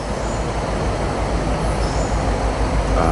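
An eastbound train rolls past on Main 1 of the Harrisburg line at Wyomissing, a steady, close rumble of wheels and cars that holds level for the whole stretch.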